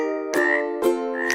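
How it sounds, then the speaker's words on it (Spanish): A frog croaks in a children's animal-sounds song, giving three close, loud, buzzy calls at an even pace, each a harmonic-rich trill with short gaps between them. "la rana hace"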